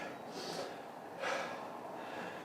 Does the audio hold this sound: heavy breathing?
yes